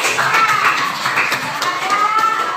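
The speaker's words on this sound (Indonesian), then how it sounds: "Ya, tepuk tangan." A classroom of students bursts into applause, a busy, steady patter of many hands at close range, with faint voices mixed beneath the clapping.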